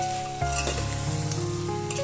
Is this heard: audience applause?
no